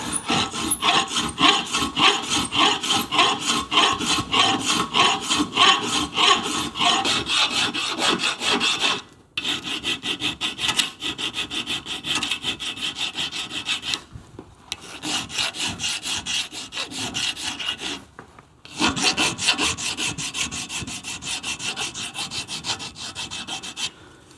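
Steady back-and-forth rasping of a hand file on a metal motorcycle part in a workshop, loud and close, in long continuous runs broken by a few short pauses.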